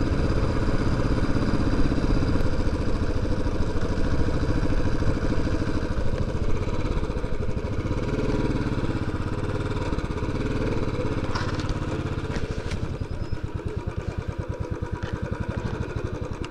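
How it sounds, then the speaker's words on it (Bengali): A motorcycle climbs a hill road in the Ayodhya Hills of Purulia, its engine droning loud and steady throughout with a slightly rougher, pulsing rumble toward the end. "সত্যি পাহাড়ে বাইক চালানোর মজাই আলাদা।"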